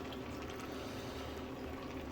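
Vegetable stock pouring steadily into a soup pot for a sausage, cabbage and potato soup, a continuous close liquid splash and gurgle with no talk.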